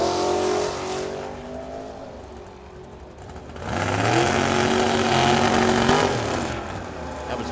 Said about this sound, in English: That was Robert Martinez in that right lane with a 67 Mustang